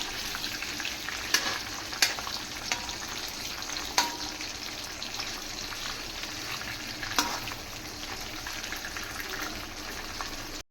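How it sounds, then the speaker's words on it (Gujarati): Cashews fry in a pan for a restaurant-style kaju shaak, giving a steady soft sizzle with a few sharp clinks of stirring against the pan. "કાજુને આપણે આમાં સાતળી લઈશું, મીન્સ કે ફ્રાય કરી લઈશું"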